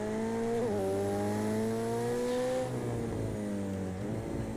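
A road car engine in Project CARS 2 pulls hard under acceleration, its steady rising drone stepping up through gear changes, loud and close throughout with no talking.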